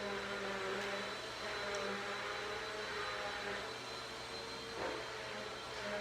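A household vacuum cleaner runs steadily in the next space, a constant whining drone at moderate, fairly distant volume throughout, with no one speaking.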